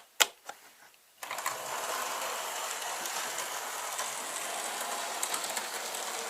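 Model railway locomotive Impala, in 1948 British Railways livery, starts with a few sharp clicks, then runs along the track with a continuous fine whirring rattle, close by and steady.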